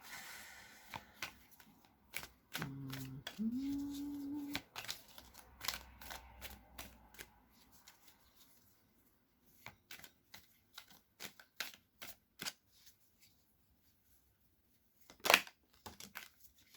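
Oracle cards are shuffled close up and fairly quietly, with a burst of riffling and sliding followed by scattered crisp taps and flicks as cards are handled and laid down.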